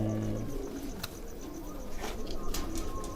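Racing pigeon cooing close by in a rhythmic series of low, throaty calls, with faint chirps and outdoor noise around it.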